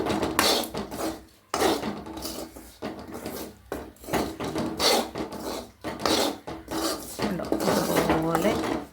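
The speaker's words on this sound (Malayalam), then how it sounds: "ഇനി ഇത് നന്നായി മൂക്കും വരെ ഇളക്കി കൊടുക്കണം." A spoon scrapes and rasps against a pan while onion curry is stirred, in repeated rhythmic strokes with brief pauses, close and fairly quiet.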